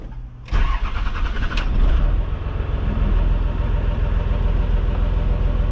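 A truck engine cranks briefly and fires up, then settles into a steady, loud, close rumbling idle with no throttle applied.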